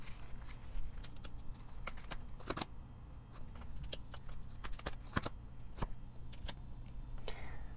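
Tarot cards are shuffled and drawn, with repeated sharp card-slap clicks and riffling snaps scattered irregularly over a low steady background hum.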